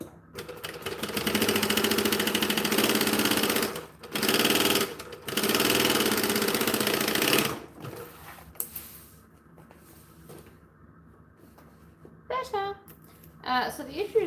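A sewing machine stitches fabric in loud, fast mechanical bursts with brief pauses, then stops as a person starts talking.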